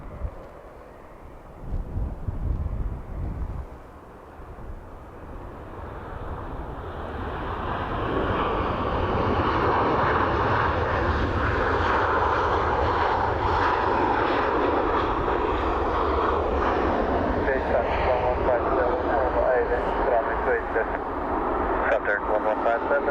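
Aircraft engines at Dublin Airport, a jet rising from a distant hum into a loud sustained roar that holds for many seconds as it passes, with wind noise and some voices underneath.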